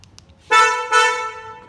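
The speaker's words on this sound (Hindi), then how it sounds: "ये इसमें जो क्रेटा का हॉर्न लगा रखा है" A Hyundai Creta car horn fitted to a Hyundai Venue sounds two close, loud blasts, the second held a little longer, heard alone without talk.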